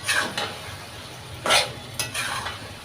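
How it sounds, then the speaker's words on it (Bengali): A spoon stirs a vegetarian pumpkin, potato and Malabar spinach curry in a pan, with a few scraping swishes and faint sizzling between them, close up and moderately quiet. "আবারও নাড়াচাড়া করে নিয়েছি।"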